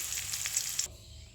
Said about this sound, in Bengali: পনিরটি ভাজা হয়ে গেছে। এবার এগুলি তুলে নেব।